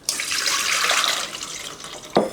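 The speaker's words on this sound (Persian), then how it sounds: "نخود فرنگی هم آب میکشم." A kitchen tap runs steadily into a sink as green peas are rinsed for an oven-baked trout dish, a close, full rush of water that cuts off near the end with a short splash.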